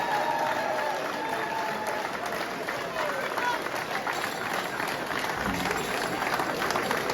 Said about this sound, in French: toujours dans le mode applaudissement